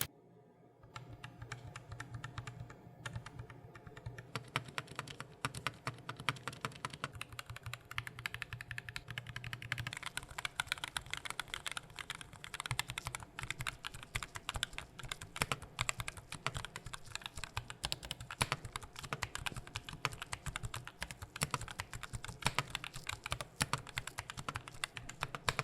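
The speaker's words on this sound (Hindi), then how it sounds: "यही रीजन है कि इस कीबोर्ड का साउंड कुछ ऐसा आपको सुनने को मिलने वाला है।" Steady fast typing on an Asus ROG Strix Scope II RX gaming keyboard with optical switches and foam dampening gives dense, even clicks and clacks throughout, close up with no voices.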